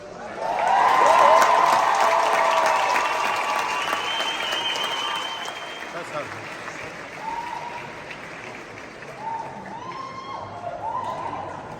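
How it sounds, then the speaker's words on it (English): Crowd applause and cheering at a graduation ceremony for the School of Health and Wellness, a loud burst of clapping that slowly thins out, with scattered whoops and voices near the end. "I love the energy and the cheering."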